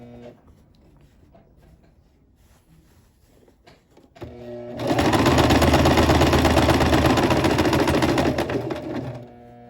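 A sewing machine stitches a shirt. After a few seconds of quiet handling it starts up and runs in a steady, dense whir for about five seconds before stopping, close and clear, with no talking.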